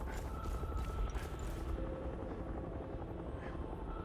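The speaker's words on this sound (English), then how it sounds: "I knew I heard a helicopter." Helicopter in the video game Hell Is Us, a steady rotor drone filling the scene at moderate loudness, continuous throughout with a low pulsing thrum and no talk over it.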